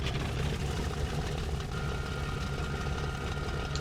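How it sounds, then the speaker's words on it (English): A Bf-109 fighter plane engine idling and running in the IL-2 Sturmovik flight game, a steady low rumbling drone held at an even level throughout, with no talking. "Basically, you can see that the engine started very quickly, very easily."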